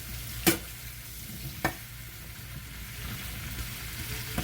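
Sausage and vegetables sizzling in a skillet over high heat, a steady soft frying hiss with two sharp clatters of a utensil against the pan early on.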